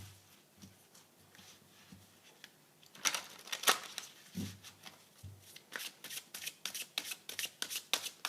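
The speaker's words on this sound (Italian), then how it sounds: "Ci metto le carte della dea." Tarot cards handled during a reading, heard as soft, close shuffling and brushing that turns into a busier run of crisp flicks and snaps after a few seconds. No voices.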